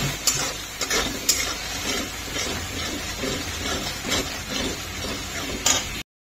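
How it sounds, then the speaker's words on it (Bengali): Potato curry masala for a vegetarian Bengali aloo dum fries in oil, releasing a steady low sizzle broken by intermittent sharper crackles and spatters. "এটা ভালো করে আমার কষানো হয়ে গেছে, দেখো তেল ছাড়তে শুরু করে দিয়েছে।"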